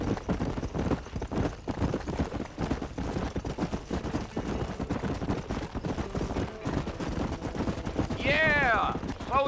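Horse hooves clip-clopping steadily in Red Dead Redemption, a continuous trotting rhythm running under game dialogue, with a brief whinny-like call near the end.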